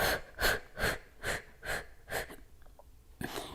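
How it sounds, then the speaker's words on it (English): Six strong, evenly spaced breaths pushed out through the mouth during a yoga workout, each a short breathy huff about half a second apart, close and fairly loud with no talking, followed by a final sharper exhale. "reach forward and exhale through the mouth"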